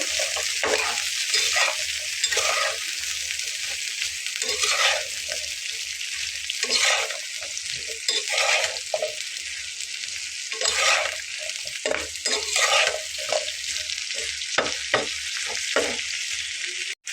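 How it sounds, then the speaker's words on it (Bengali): Spring onion bharta mixture is stirred and turned in a hot pan, giving a loud continuous sizzle broken by repeated rhythmic scraping strokes of the spoon throughout. "তারপরে সবগুলো আমি একসঙ্গে খুব ভালো করে নেড়ে করে নেব"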